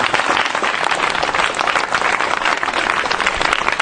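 Sustained, dense applause from a church congregation acclaiming God's love, loud and even throughout with no speech rising above it.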